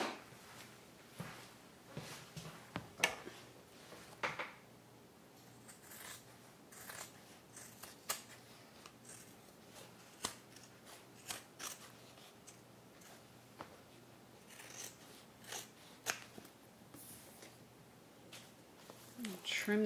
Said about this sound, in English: let's go ahead and trim these seams down